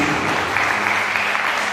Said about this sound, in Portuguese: Aplauda Jesus bem forte, igreja.